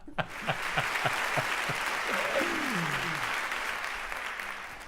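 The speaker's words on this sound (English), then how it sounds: "Keep the applause going." An audience applauds after a live piano performance, a few sharp claps at first swelling into steady clapping, with a brief vocal whoop partway through, moderately close and fading slightly at the end.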